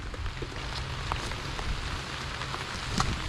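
Steady rain patters on a surface nearby in an okra garden, a dense continuous hiss with occasional distinct drops, no talking.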